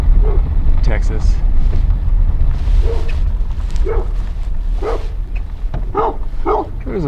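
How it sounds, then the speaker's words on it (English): A small dog barks in a rough, rural New Mexico border town, giving repeated yips and barks at middle distance over steady wind and engine noise. "There's a friendly little dog."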